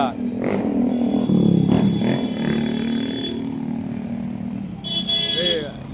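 Motorcycles and other vehicles rumble past on a road during a Sankranti festival in Bannur, a continuous engine drone with a brief horn toot near the end, under a voice talking.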